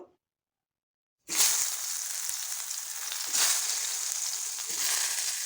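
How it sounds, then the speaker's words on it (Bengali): Salted, turmeric-coated eggplant pieces hit hot oil after a brief silence, setting off a loud, steady sizzle that carries on with slight swells as the frying continues, no voices. "তেল গরম হয়ে গেছে দিয়ে দিচ্ছি নুন হলুদ মাখিয়ে রাখা বেগুনগুলো"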